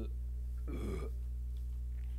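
A person imitates a burp with a single short, rough, throaty eruption lasting about a third of a second, set against a steady low hum.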